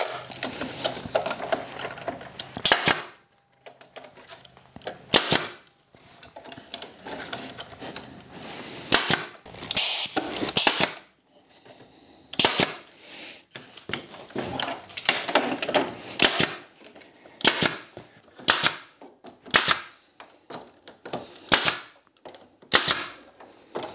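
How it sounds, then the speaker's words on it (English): A staple gun driving staples to fix trellis onto a wooden garden arbor, loud sharp snapping shots repeated at irregular intervals, close by, with handling noise between them. "Now I'm just going to staple these in place."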